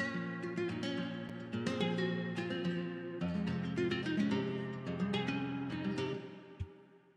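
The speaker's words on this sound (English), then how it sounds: "and so with the guitar chords, it sounds like this." Sampled guitar chords programmed in FL Studio, a busy strummed and plucked pattern with bright attacks repeating over about seven seconds, moderately loud with no voices.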